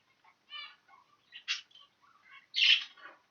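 Show birds, including grey-green birds in cages, chirping inside a shed: scattered short tweets and warbles close by, with a couple of louder harsh squawks breaking through, no speech.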